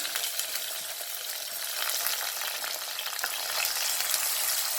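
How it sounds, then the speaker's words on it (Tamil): Chopped shallots frying in hot oil with fenugreek and cumin, a dense, loud, close crackling sizzle that holds steady and grows slightly stronger throughout, with no voices. "கட் பண்ணி வச்ச சின்ன வெங்காயத்தை சேர்த்துட்றேன்"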